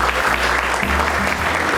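A conference audience applauds a guest speaker at a legal lecture, a steady, dense wash of clapping under low musical or hum tones throughout.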